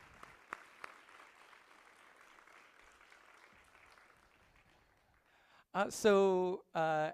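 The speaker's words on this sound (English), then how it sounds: "So I want to give them a round of applause if they're listening on Zoom." Audience at a summer science seminar giving a round of applause, a soft, fairly distant patter of clapping for several seconds before a speaker's voice comes in loudly at the end.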